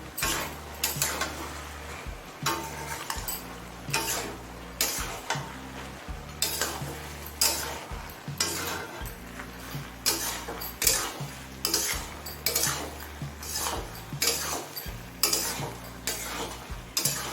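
Green peas stirred into cabbage in a pan over a high flame, with a rapid continuous run of spatula scrapes and clatter against the pan over a steady sizzle, loud and close.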